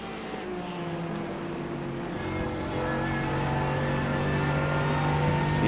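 GT3 race cars lap the Road Atlanta circuit, engines rising in pitch as they accelerate through the esses, a steady whining roar that grows louder over several seconds.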